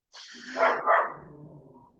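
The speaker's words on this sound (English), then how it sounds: "I can hear a dog." A dog barks outdoors during a walking tour in Florence, a couple of quick, fairly close barks that trail off, with no talk over them.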